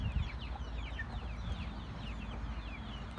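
Chickens and a rooster cluck in a coop, their short overlapping calls steady and moderately close over a low, rumbling background.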